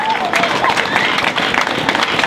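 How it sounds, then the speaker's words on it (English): Outdoor political event crowd applauds under a tent, a dense burst of clapping mixed with some cheering and crowd noise at a steady, fairly loud level throughout. "Round of applause for Jeff Chittister"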